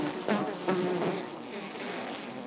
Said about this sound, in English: I have never watched so many bees.